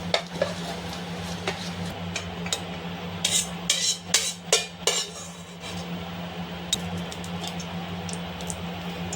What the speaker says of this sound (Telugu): మరీ ఎర్రగా వేపకుండా ఫ్లేమ్ని తగ్గించి కొద్దిగా లైట్గా వేపుకోవాలి ఫ్రెండ్స్